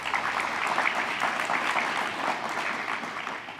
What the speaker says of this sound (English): Please give them all a big round of applause.